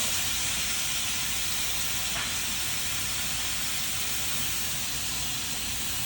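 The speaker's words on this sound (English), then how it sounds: "I like to put a towel over it just to control the steam coming out and reduce the chance of getting burned." Pressure cooker releasing steam from under a draped towel: a loud, continuous, even hiss that runs unbroken throughout, with no other sounds.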